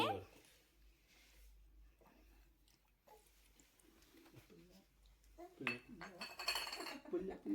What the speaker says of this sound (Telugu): నెక్స్ట్ వగరు, మామిడికాయ ముక్కలు వెయ్యి. మెల్లిగా వెయ్యి అన్నీ.